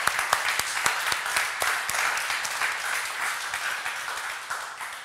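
An audience applauds a ten-year-old rapper at a rap contest award ceremony, with a few sharp individual claps opening into steady, fairly loud clapping that continues without speech for several seconds.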